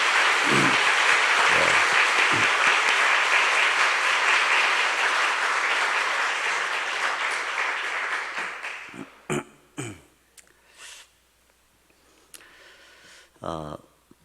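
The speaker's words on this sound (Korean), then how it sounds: "우리 담임 목사님 위해서도 한번 박수 한번 보내주세요" A church congregation at a revival meeting gives sustained, loud applause for the senior pastor, dense clapping that slowly fades out, followed by someone speaking in short bursts.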